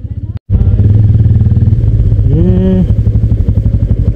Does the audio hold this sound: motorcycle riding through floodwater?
yes